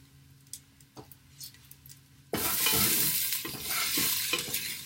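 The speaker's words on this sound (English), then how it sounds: "I'm gonna stir them up here again real quick" Vegetables sautéed in a pot for chicken noodle soup are stirred: a quiet opening with faint clicks, then a loud, steady sizzle with scraping stir strokes for the last half.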